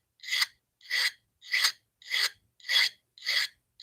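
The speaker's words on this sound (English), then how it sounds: "Drag over that blade. You can feel it hit" A sharpening tool is dragged over a blade in seven rhythmic, evenly spaced rasping strokes, close and loud, with silence between each pass and no talk.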